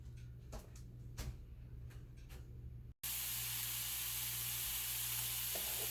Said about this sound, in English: these vegetables have been sauteing for about 5 minutes